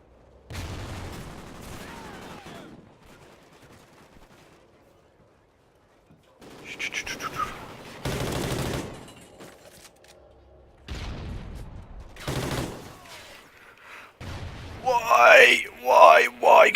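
Gunfire in a video game comes in short bursts and booms between stretches of quiet, with someone talking over parts of it and a louder crackling burst near the end.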